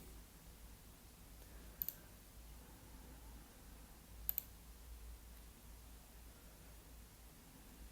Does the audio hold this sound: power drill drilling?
no